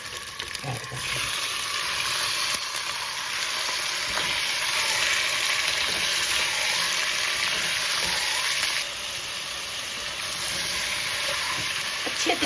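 Chicken for Deighi chicken qorma fries in a pan with a loud, steady, close sizzle and hiss, occasionally broken by stirring scrapes.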